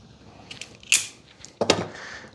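Two sharp snipping cuts, about three quarters of a second apart, slice through a Jeep vacuum pump intake hose to shorten it. Each cut is crisp and close, with quiet handling noise in between.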